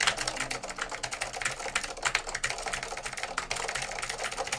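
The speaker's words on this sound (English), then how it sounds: "So this has Blue Alps. These puppies are loud." Rapid, loud clacky typing on a Northgate Omni keyboard fitted with Blue Alps switches, a dense run of sharp keystrokes that continues without pause, close to the microphone.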